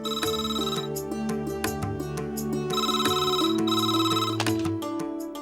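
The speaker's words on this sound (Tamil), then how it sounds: "ஃபோன் அடிக்கிறது பார் யாருன்னு போய் பாரு" A telephone bell rings steadily in a domestic scene from a Tamil TV serial, its repeated trilling bursts loud and close over a bed of sustained background music.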